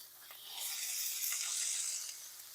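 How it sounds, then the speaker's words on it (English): A thin smash burger patty about a quarter inch thick sears on a hot griddle, giving a steady close broadband sizzle that swells after the first half second and holds, with no talk over it. "hold it for about 10 seconds to make sure you get a good sear on that burger"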